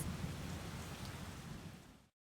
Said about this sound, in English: the fog and the rain has come back